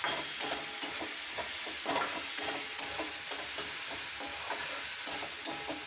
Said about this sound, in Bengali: দিয়ে এটা বেশ করে ভালো করে কষিয়ে নিতে হবে।